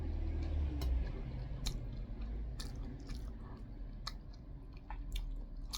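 Someone eating doenjang soup at close range, with soft spoon taps, slurps and chewing in an irregular rhythm over a faint low background hum, and no talk.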